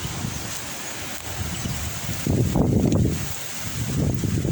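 Strong wind buffets the microphone in a steady roar at a clifftop viewpoint on Khao Phaya Doen Thong, gusting louder in surges, with no voices.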